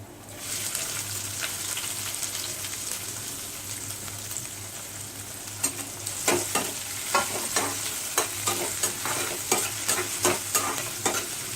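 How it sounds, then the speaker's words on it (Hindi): Chopped onions fry with light-browned garlic in a pan for dal khichdi, a steady close sizzle building as a spoon scrapes the pan in a regular series of stirring strokes through the second half. "अब हम इसमें प्याज डालेंगे।"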